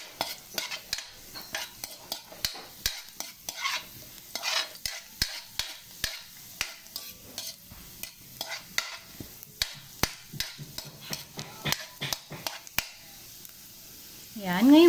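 Ginger and garlic fry and get stirred in a pan for a sour fish dish, with frequent scraping and clinking of a utensil over a steady low sizzle throughout.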